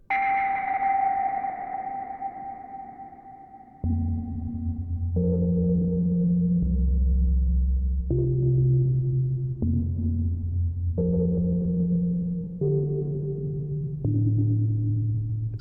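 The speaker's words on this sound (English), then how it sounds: "Sonar-like, isn't it?" A synth tone with a sonar-like ping, ringing and fading, then a sequence of low stepped synth notes, all drenched in long reverb, from a Novation Summit or Peak synthesizer recreating a classic vintage patch.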